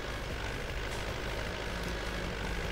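Steady drone of a T-40 tractor engine in Farming Simulator while spraying a field, a continuous low rumble with broadband hiss, constant and unbroken throughout, no talking.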